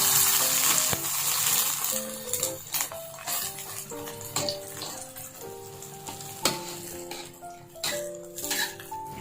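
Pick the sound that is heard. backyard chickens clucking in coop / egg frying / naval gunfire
egg frying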